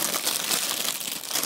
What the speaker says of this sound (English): there is a certain amount of our podcast that's got to be like filled with rustling noise